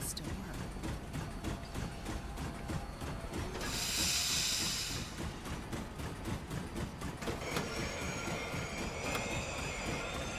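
A train ride in The Long Dark video game: steady rumbling wheels and rattling carriages, with a bright hissing burst partway through and high squealing wheel tones toward the end.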